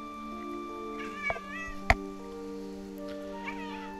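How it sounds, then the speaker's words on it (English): A pet cat meows close by in a short, wavering call around the middle, with a second fainter meow later, over a steady electronic game soundtrack with sustained tones. "My cat just started attacking my head."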